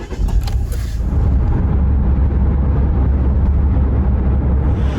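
A car's engine and road noise rumble steadily and loudly from inside the cabin, a constant low drone with a brief bump near the start.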